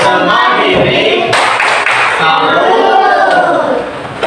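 Children in a classroom perform the 'tepuk salut' clap chant, chanting loudly together in a lively, uneven mix of voices and hand claps.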